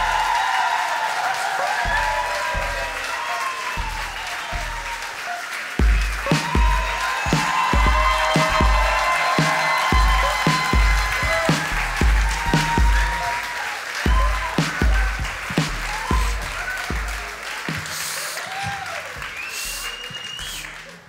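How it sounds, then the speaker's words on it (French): Applause and whoops greet two comedy legends arriving on a podcast stage, dense clapping with distinct sharp claps near the front, building then gradually thinning toward the end. "gardez vos applaudissements, s'il vous plaît, pour les deux légendes de l'humour"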